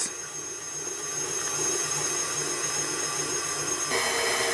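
An electric mixer whisks egg whites in a dry bowl at low speed for a pavlova, making a steady, close mechanical whir that shifts slightly in tone near the end.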